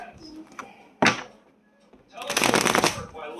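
Tarot cards being shuffled, a sharp riffle followed by a longer, denser burst of card shuffling near the mic, with a voice talking briefly in between.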